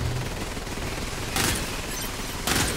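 Gunfire from a gun in Borderlands 3 with a Super Soldier shield equipped: two short, loud bursts of shots about a second apart, over a dense, steady wash of game noise.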